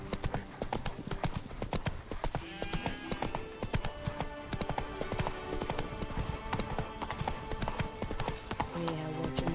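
In The Witcher video game, the horse Roach trots with brisk, evenly spaced hoof clip-clops, loud and close, while characters talk intermittently over the hoofbeats.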